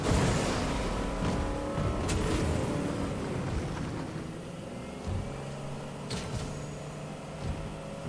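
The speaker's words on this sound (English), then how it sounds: "I'm hearing a double engine." A boat engine in Fortnite drones steadily with a low, continuous rumble and occasional faint clatters, with no talking.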